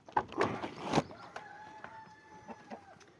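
Hens inside a mobile poultry house fitted with feeders and nesting boxes cluck and call at close range, a few sharp bursts followed by softer drawn-out vocalizations, with no talking.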